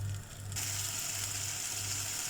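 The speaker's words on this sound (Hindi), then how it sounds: "तो इसको हम फ्राई कर रहे हैं" Masala spices frying in a pan as the base for a king fish curry, a steady hiss and sizzle that brightens after a brief pause and holds evenly, close up, with a low intermittent mechanical hum beneath.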